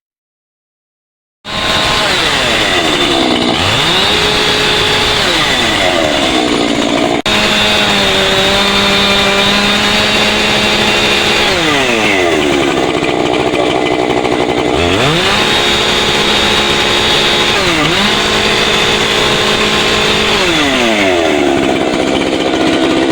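A fire brigade cutter machine, a chainsaw-type power saw, roars into action and cuts through a large fallen tree lying on a car after a storm, loud and close, its pitch dipping and recovering repeatedly as it bites into the wood.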